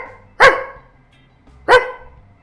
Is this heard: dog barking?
yes